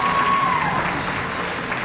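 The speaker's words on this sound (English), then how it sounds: "If you can give him a round of applause" A school band concert audience at Gillett Middle School applauds, and the clapping blends into a dense, even wash with faint crowd murmur. A brief tonal ring fades in the first second.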